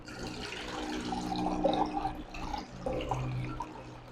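An apple is dipped into a jug of room-temperature water, giving a steady run of soft splashing and trickling liquid sounds at close range, with no talk.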